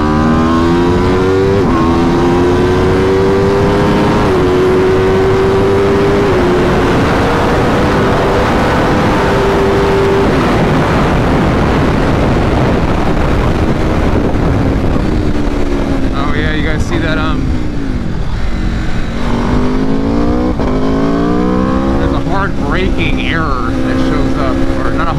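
A 2022 Aprilia RSV4 Factory 1100 sport motorcycle with a flash-tuned ECU is pushed from zero to full throttle, its loud engine climbing steadily in pitch, holding a high wail, then dropping and revving again with sharp pitch sweeps near the end.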